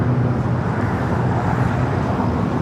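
Emirates airliner rolling out on runway 24R at LAX, a continuous even roar of jet engines and airflow with a low steady hum beneath, no talk.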